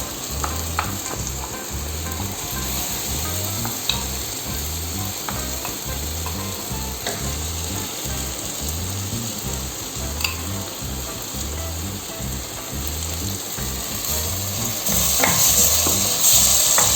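Chicken vindaloo masala paste sizzles steadily in oil, with rhythmic scraping from continuous stirring and no talking.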